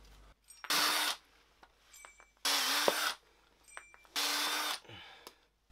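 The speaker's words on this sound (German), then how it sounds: "Bohren." Three bursts of a power drill whirring while building a bicycle camper trailer, each lasting under a second, separated by quieter pauses with faint clicks and handling noises.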